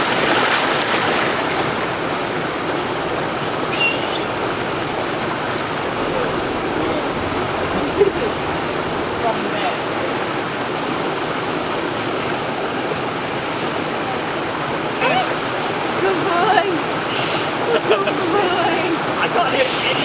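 A river rushing steadily over rocks, a broad constant roar of flowing water that stays loud and even throughout, with faint scattered sounds on top.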